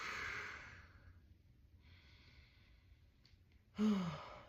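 A person exhales audibly while holding a quadruped position during an exercise routine, with one soft breath early on and a louder, sharper sigh-like exhale near the end over quiet room background.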